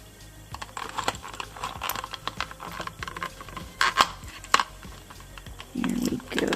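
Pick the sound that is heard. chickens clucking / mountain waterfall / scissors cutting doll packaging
scissors cutting doll packaging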